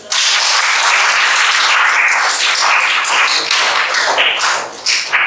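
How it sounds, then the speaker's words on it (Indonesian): A classroom full of students applauding, a dense burst of clapping that holds steady for several seconds before tapering off. "kasih tepuk tangan dulu"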